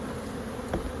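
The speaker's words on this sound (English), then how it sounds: "there's kind of a clear cluster of bees in this hive" Honey bees swarm around an open hive, a dense continuous buzzing drone filling the clip at close range, with a brief louder swell near the end as a bee passes close.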